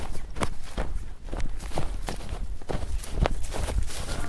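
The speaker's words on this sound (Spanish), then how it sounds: "Empecé a correr." Running footsteps hitting the ground in a quick, steady rhythm, loud and close, each footfall a sharp thud repeating roughly every third of a second for over four seconds.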